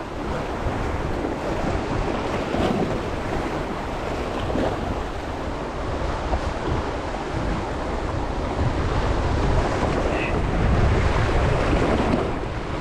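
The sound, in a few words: strong wind by the sea at Comas Island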